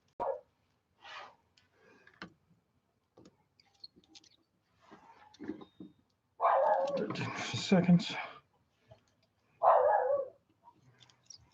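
Dog barking in bursts near a stump-cutting job with Stihl MS660 and Husqvarna 372XP chainsaws, a few loud yelps and longer runs of barking separated by quiet gaps, with someone speaking briefly between them.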